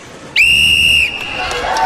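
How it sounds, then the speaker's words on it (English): A single sharp referee's whistle blast lasting under a second starts a dodgeball game in an arena, followed by crowd noise and faint chatter. "And with that whistle, the dodgeballs come flying down."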